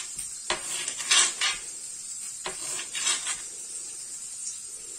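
A few sharp knife strikes against a glass table while cutting puff pastry, two short clusters of clicks and taps with quiet pauses between, close and fairly faint.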